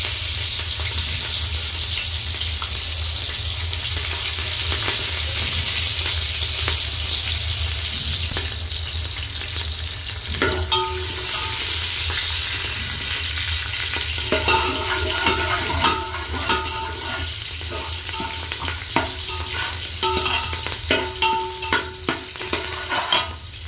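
Green chilies sizzle and fry in hot spiced oil for a prawn biryani, a constant loud crackle joined partway through by scraping, clinking stirring strokes against the pan; no one speaks.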